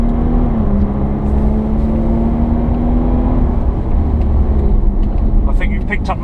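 A Jaguar XF 360 hp on the Pamplona race circuit accelerating, a steady droning engine note rising slightly in pitch, heard from inside the car, with a voice speaking over it.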